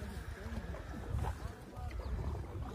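A boat carries passengers across the lake at Pokhara toward a temple, with a steady low rumble of water and wind under faint voices throughout.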